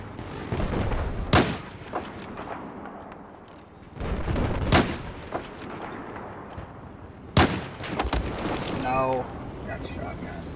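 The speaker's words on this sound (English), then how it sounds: "I knew it was a shotgun" Shotgun blasts in Battlefield 4, three loud booming shots spaced a few seconds apart, each ringing out over a busy bed of distant gunfire and ambient combat noise.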